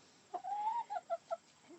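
Dottie, a backyard hen, clucks loudly and close by in a short run of pitched calls: one drawn-out note and then several quick clucks, with no talk.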